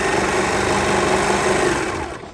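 A serger runs along a kitchen towel edge and stitches off the trailing chain, giving a loud, steady, fast mechanical whir that holds for about two seconds before it stops abruptly.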